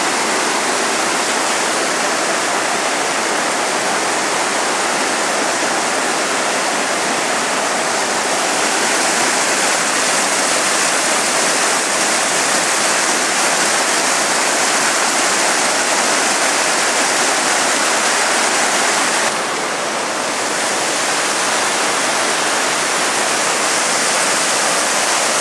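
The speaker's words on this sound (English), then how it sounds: "Look at that pretty little creek." A creek flows steadily nearby, its water rushing and babbling continuously without pause or voices.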